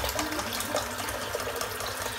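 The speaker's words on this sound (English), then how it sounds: "Just got some water in the sink, water into the brush, and let's load this bad boy up." Tap water runs steadily into a bathroom sink to wet a shaving brush before loading it with hard soap, a continuous close splashing flow with no talking.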